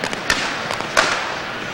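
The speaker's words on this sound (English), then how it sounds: "Some firecrackers going off in the stadium." Two sharp firecracker bangs, the second louder, pop out of the background crowd noise at a 1995 World League American football game between the Scottish Claymores and Barcelona Dragons in Barcelona's stadium.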